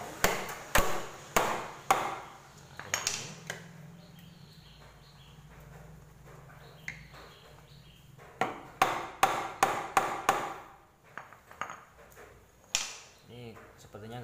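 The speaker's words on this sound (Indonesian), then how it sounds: "Kedok pakai palu seperti ini, cuman kita gunakan yang yang kayunya, atau bisa pakai palu karet" A wooden mallet knocks apart the clutch assembly of a Yamaha Jupiter motorcycle, giving sharp, close strikes that come in uneven bursts, with a quick flurry of blows near the end and a metallic rattle between them.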